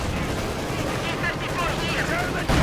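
Dense gunfire and explosions from a Company of Heroes 2 battle, with tanks including an H-35 and a T-34 firing on infantry. The barrage rolls on loud and continuous, and a commentator talks over it.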